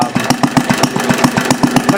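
A Briggs engine fitted with a glass cylinder head runs on propane, chugging close and loud in a steady, even rhythm of firing pulses.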